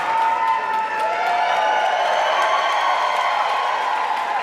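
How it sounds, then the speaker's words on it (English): Crowd at a wrestling event cheering and applauding, a dense, continuous roar of voices and clapping that holds steady and loud throughout, with no single voice standing out. "And this Commodore crowd loving every second of that after Zoe Sager spilled that beer"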